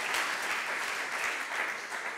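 A seated audience claps steadily at a university award ceremony, even sustained applause at moderate distance with no pauses and no talk over it.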